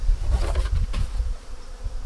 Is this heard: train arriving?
no